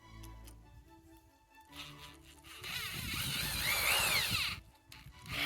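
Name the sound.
power drill drilling a hole through wood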